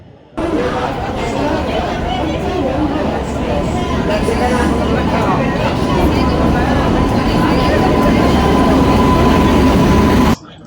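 Steady, loud rumble of a train at a station, with a constant low drone and crowd chatter mixed in throughout.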